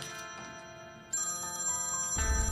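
A telephone rings with a bright, repeating electronic ringtone melody, steady and fairly loud, with no voices.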